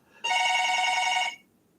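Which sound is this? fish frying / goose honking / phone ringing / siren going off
phone ringing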